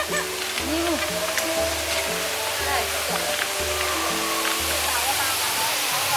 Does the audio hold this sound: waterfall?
yes